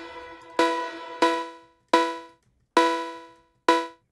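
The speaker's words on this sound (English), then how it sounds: "design your own Phonk 808 cowbell" A Phonk 808 cowbell built in Ableton with glue compression hits five times in a sparse rhythm, each bright metallic strike decaying quickly, up close and alone.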